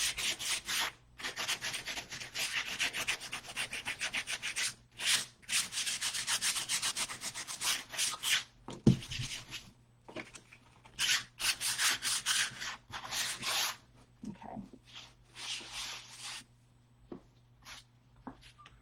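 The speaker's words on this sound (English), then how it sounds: "So I'm just going to hit it with my sanding pad." Sanding pad rubbed by hand over decoupage paper glued onto a red book cover, a steady close scratchy rasping in long strokes with a few brief pauses between passes.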